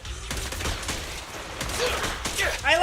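Video game gunfire from an anime-style shooting game, rapid popping shots in quick bursts across the clip, with a character's voice chirping near the end.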